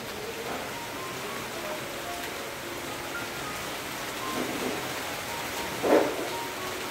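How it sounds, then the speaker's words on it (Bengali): Heavy rain pours down in a dense, even wash of hiss that stays steady throughout, with one brief louder splash near the end and no talking. "আর এখনো দেখো কতটা পরিমাণে বৃষ্টি হচ্ছে"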